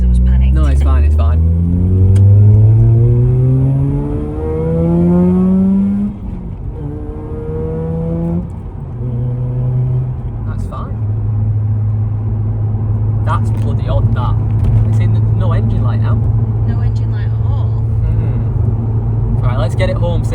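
A bridgeported Mazda RX8 rotary engine pulls away on the road, climbing through loud rising revs in successive gear pulls, then settling into a steady droning rumble. Voices talk over the engine throughout.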